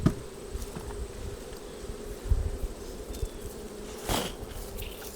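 Honey bees buzz around an open hive during a honey harvest, a steady low droning hum with a few brief louder passes close to the microphone and faint handling knocks.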